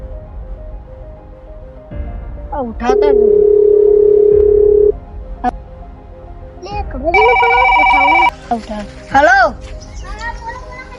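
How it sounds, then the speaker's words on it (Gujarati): A phone rings with a steady tone and then a patterned electronic ringtone while a call is being placed, with people talking before and in between. "હવે મંગાજી ફોન કરી જાઉં હેલો"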